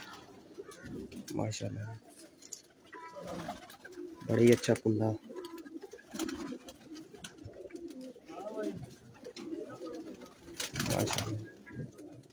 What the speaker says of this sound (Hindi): ये जी उनकी तरफ से ये कबूतर आया हुआ है